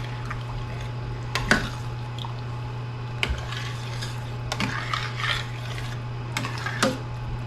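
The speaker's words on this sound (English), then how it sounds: "Just stir it in." A utensil stirs lasagna filling in a pot, with soft scraping and occasional light clinks against the metal at irregular intervals over a steady low background hum.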